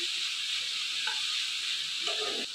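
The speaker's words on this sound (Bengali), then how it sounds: "এর মধ্যেই অল্প আস্তে আস্তে করে ভাজবো।" Chicken pieces fry slowly over low heat in a pan with very little oil, a constant close sizzle and hiss with a few faint stirring scrapes.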